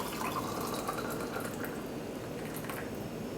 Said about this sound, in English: So I pour the boiling water into the pitcher,